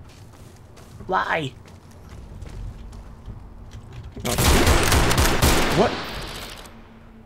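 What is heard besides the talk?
gunfire in the video game Fallout: New Vegas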